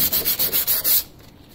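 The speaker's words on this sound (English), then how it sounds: "we're gonna use some sandpaper to just scuff it up a little bit just to get under the clear coat" Sandpaper scuffing a painted surface to break through the clear coat, a rapid series of about six rhythmic rasping strokes up close, then stopping into near silence.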